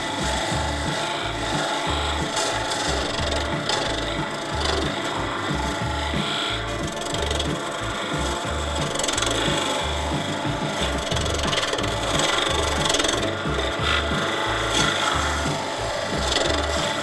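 A woodturning tool cutting wood while back hollowing on a lathe, producing a continuous rasping, scraping cut over a rhythmic low thumping of the spinning workpiece, close and steady.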